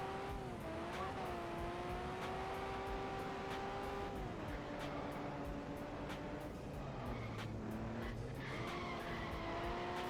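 Race cars in the Overspeed Championship video game slide through a hard-braking final turn. Tires squeal in long, wavering tones over a constant engine whine, with the pitch dipping and rising as the cars skid.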